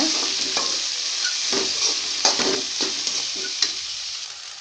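Hot oil sizzles steadily as okra is stirred and fried, with occasional scraping clinks of a spatula against the pan.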